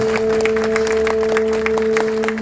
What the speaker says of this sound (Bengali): একটা জোরদার হাততালি সবাই মিলে